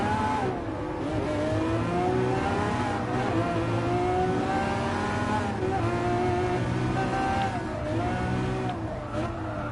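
A 2011 Lamborghini Aventador LP 700-4 engine revs hard on track in Gran Turismo Sport. The loud, sustained engine note rises and falls through gear changes, with tire squeal mixed in.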